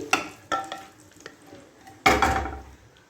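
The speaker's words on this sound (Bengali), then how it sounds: "শুধু একটু নেড়ে দেবো" Khichuri being stirred in a pot: a handful of distinct scraping strokes and spoon knocks against metal, the last one louder and longer, with quiet gaps between and no talking.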